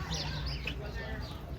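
Small birds and parrots chirping and calling in a roadside animal enclosure in the Florida Everglades, several high calls overlapping close by above a steady low background murmur.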